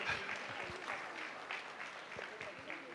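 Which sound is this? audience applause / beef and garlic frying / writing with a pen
audience applause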